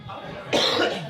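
A single sharp cough from someone with a cold at a drag show, close and fairly loud, rising abruptly out of a quiet, noisy background.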